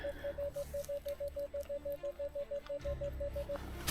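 A Minelab Equinox 900 metal detector gives a rapid, even series of short beeping pulses at a fixed pitch, repeating for most of the time before stopping, over faint outdoor rustling and handling noise.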